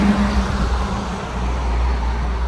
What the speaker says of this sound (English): Just hear the trucks going by.